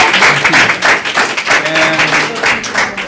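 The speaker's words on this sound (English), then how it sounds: "Let's give a round of applause to the panel." An audience at a conference panel on Latino political engagement breaks into loud, sustained applause, with dense clapping that rises and falls close by.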